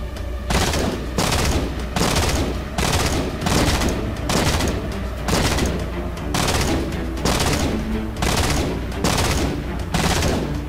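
A DMR rifle fires in Halo CE on a Halo 4-style custom map, with regular, loud, close shots in a steady rhythm, each a sharp crack with a short booming tail.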